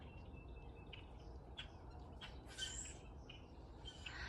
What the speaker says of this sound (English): don't know if you can hear all of the birds.